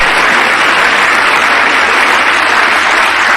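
Steady, dense clapping from a small crowd at a Trump speech, a continuous wash of applause held at full loudness for the whole stretch with no voices over it.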